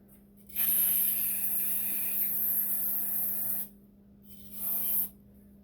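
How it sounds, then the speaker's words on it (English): Carb cleaner sprayed through a straw into the ports of a 717 carburetor during a rebuild, a loud close hiss lasting about three seconds, a pause, then a shorter second burst, with a steady low hum underneath. "We're just going to spray it down with some carb cleaner."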